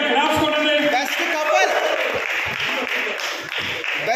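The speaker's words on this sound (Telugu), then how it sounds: "గట్టిగా క్లాప్స్ కొట్టండి." Loud, sustained clapping from an audience at a picnic prize ceremony for a second-prize couple at an employees' gathering in Visakhapatnam, with shouts and voices mixed in throughout.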